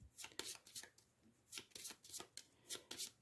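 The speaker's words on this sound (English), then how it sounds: "let's give these a quick shuffle" A deck of Final Girl board game cards is shuffled by hand in quick riffling bursts, close and fairly quiet, several rapid flutters separated by short pauses.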